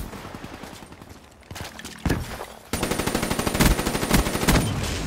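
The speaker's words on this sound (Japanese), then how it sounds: "あ、レート高めの AR だ。" Fast, rapid-fire bursts from a high fire-rate assault rifle in Call of Duty Black Ops 3, loud and close. A quieter stretch with a few shots comes first, then sustained automatic fire through the second half.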